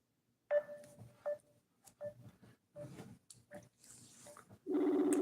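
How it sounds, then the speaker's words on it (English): Phone keypad tones beep one after another at uneven intervals as a number is dialed, mixed with faint handling noises, followed by a louder steady tone at the end. "Let me see if I can get one of these idiots on the phone."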